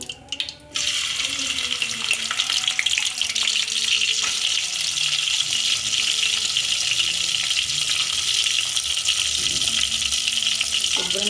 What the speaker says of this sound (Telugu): కడిగి పెట్టుకున్న నెత్తల్ని ఇప్పుడు మనం ఆయిల్లో వేయించుకోవాలి